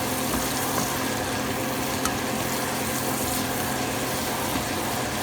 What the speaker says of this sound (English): just sauteing these up till they get a little limp and tender, but not caramelized